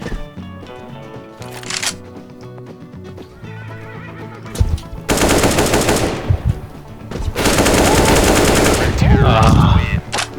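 Automatic rifle spray fire in the video game CS:GO, an AK-47 duel, with loud sustained bursts of rapid gunfire in two long stretches amid other game sounds.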